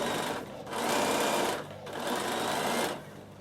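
Sewing machine running steady top stitching on a fabric produce bag, whirring in two sustained bursts separated by a brief pause, close and clear with no talking.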